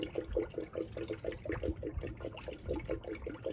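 Steady gurgling of premixed 50-50 coolant glugging and bubbling as it is poured into a car's cooling system, air escaping in rapid regular bubble bursts throughout.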